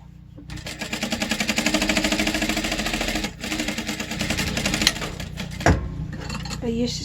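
A sewing machine backstitching the joined fabric edges of a jumbo scrunchie: a fast, steady close-up needle rattle that pauses briefly, resumes, then stops with a few handling clunks.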